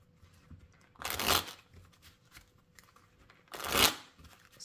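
Rider-Waite tarot cards are shuffled and handled close by in two short, crisp riffling bursts separated by quiet gaps.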